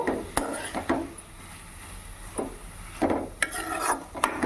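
Rhythmic rasping strokes of raw papaya being grated, several scrapes in irregular bursts with brief pauses, close and moderately loud.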